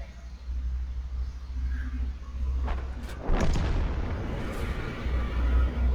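Artillery shells from a leFH18B2 self-propelled gun exploding on an enemy tank in World of Tanks: a low rumbling backdrop, then a sharp loud impact blast around the middle followed by a lingering heavy roar.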